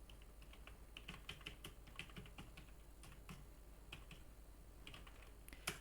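Quiet, steady tapping of keys on a computer keyboard while a math question paper is entered, rapid irregular clicks in short bursts, close by and alone.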